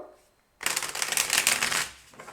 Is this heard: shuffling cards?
yes